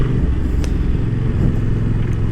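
Yamaha Tracer 7 motorcycle being ridden, a steady loud engine drone with heavy wind rumble throughout, no speech.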